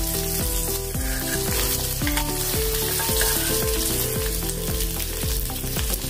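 Onions fry in oil in a pot while a traditional drumstick curry is being cooked. A loud, continuous sizzle crackles evenly throughout, with no talking.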